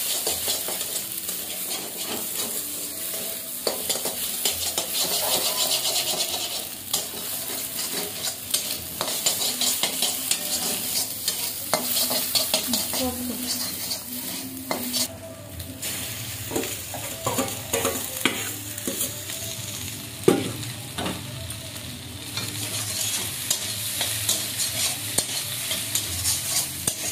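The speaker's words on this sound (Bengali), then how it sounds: "আমার ফুলকিটা ভাজা হয়ে গেছে, এখন আমি দিয়ে দেবো চাউমিনগুলো" Cauliflower florets fry in hot oil in a pan at home, sizzling steadily while a spatula stirs and scrapes with frequent clicks, close and fairly quiet throughout, with no voices.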